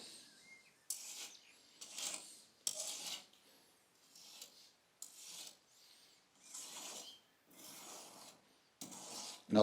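Body filler along the edge of a crashed MGA car body being shaved with a grater-style file: about ten separate rasping strokes in an even back-and-forth rhythm, close and fairly quiet, with short pauses between.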